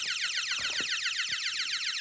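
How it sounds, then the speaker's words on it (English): A Texecom wireless alarm keypad in alarm state gives a continuous, rapidly warbling high-pitched electronic tone with a steady, even rhythm. "Finishes loading and goes into an alarm"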